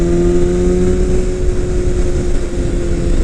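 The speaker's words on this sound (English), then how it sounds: "this new exhaust note kind of seems like I'm going faster than I am" A 2018 BMW S1000RR sport motorcycle with an Akrapovic aftermarket exhaust drones loud and close with a deep, even exhaust rumble, holding a constant pitch without revving up.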